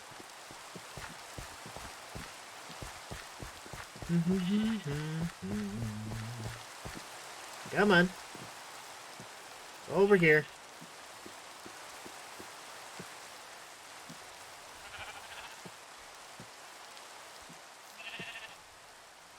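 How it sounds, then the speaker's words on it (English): Minecraft rain falls as a steady soft patter throughout, with a few sheep bleats rising over it and someone speaking briefly. "And it's raining."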